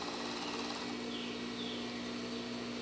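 A sewing machine stitching a lace panty runs in a fast, even, continuous mechanical whir close up, unbroken for the whole stretch with no talk.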